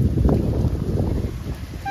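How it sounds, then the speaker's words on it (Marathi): Strong wind blowing in a dust storm at an outdoor reception, a rough, buffeting roar hitting the microphone in uneven gusts with no voices. "वादळ वार सुटलं गो. पाऊस नाही."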